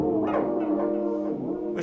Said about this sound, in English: Usually when you change the timing of a delay, it sounds like this.